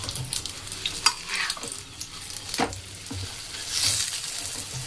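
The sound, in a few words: mughlai paratha frying in hot oil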